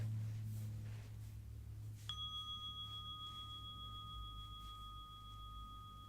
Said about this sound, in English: We'll have the bell to start